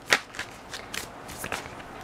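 A tarot card deck being shuffled close by, heard as a few quiet, brief papery riffles and soft flutters over a low background hiss.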